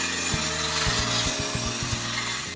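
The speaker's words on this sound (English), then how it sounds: "We started up this project by first opening any large cracks we found with a grinder." A grinder cuts open a crack in a concrete slab, a loud, close, gritty whine with rhythmic pulses as the tool bites and shifts along the crack.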